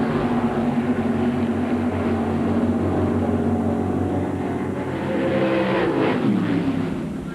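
Big block rear-engine Super Comp dragsters roar loudly and continuously in a drag race at the NHRA Mile High Nationals in 2000, with a steady engine drone that rises and shifts pitch near the end.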